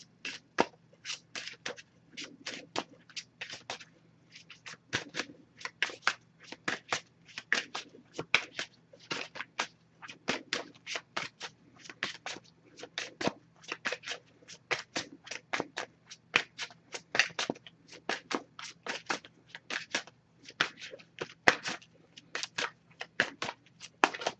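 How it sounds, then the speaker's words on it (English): An oracle card deck is handled and shuffled close by, with rapid crisp flicks and rustles repeating irregularly throughout against a quiet background. "I'm just going to pull a single card from this deck here."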